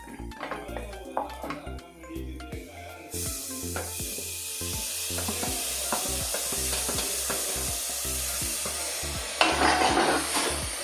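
Chopped tomatoes sauté in oil in a pan for dal palak curry: a steady sizzle swells after the first few seconds, punctuated by regular clacks and scrapes of a stirring spoon against the pan.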